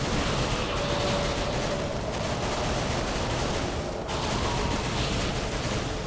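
Sustained automatic gunfire from a machine gun in the video game Darksiders II, a dense continuous rattle of shots that stays loud and steady throughout with no pauses.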